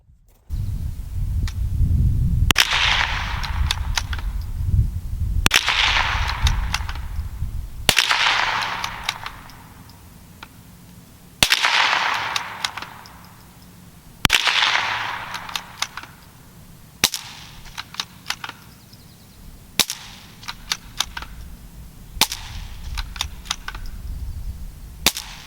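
A suppressed .22lr rifle firing subsonic and supersonic ammunition: eight sharp shots at intervals of roughly two to three seconds, each a crisp crack with a short decay, some noticeably louder than others, with no voices.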